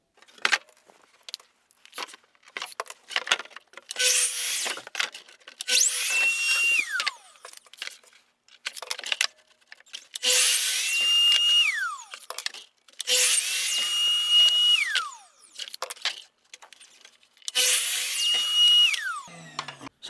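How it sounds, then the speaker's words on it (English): A power saw cuts plywood to size in five loud, roughly two-second bursts, each rising to a harsh whine and then winding down, with short quiet gaps between the cuts. "cutting the plywood to size"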